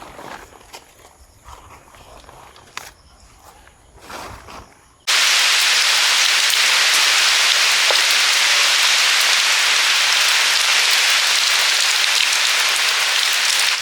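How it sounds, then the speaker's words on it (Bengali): Quiet outdoor sounds with light tapping give way abruptly to a loud, dense roar of heavy rain that pours on steadily. "বেশ বেড়ে বৃষ্টি"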